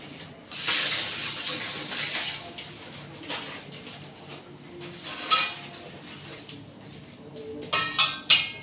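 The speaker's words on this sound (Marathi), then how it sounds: "मी हा टोप आता पाण्यामध्ये ठेवते." A metal cooking pot being set down into hot water on the stove while preparing Malvani dhondas, giving a loud clatter and scrape at first, then a few quieter clinks and sharp metallic knocks near the end.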